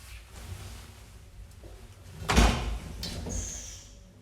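An elevator door that will not close makes a single sliding thud and rattle in the middle, followed by fainter scrapes and a brief high squeak, set against low background hum.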